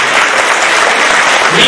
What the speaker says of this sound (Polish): Dajcie im brawa